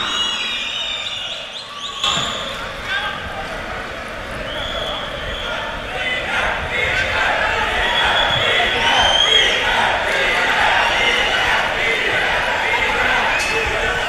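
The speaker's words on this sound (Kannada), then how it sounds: "ವೇದಿಕೆಗೆ ನಿಮ್ಮೆಲ್ಲರ ಅಭೂತಪೂರ್ವವಾದ ಚಪ್ಪಾಳೆಗಳ ಮುಖೇನ ಸ್ವಾಗತಿಸಿ" An audience at a stage event at Bengaluru's new cricket stadium welcomes the deputy chief minister with a dense, continuous roar of applause and cheering that swells steadily, while an announcer speaks over it.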